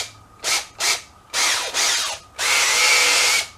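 A Makita cordless drill, with its clutch and speed control set halfway, whirs in two short bursts and then runs in two longer spells. It is loud and close, and the final spell is sustained and steady.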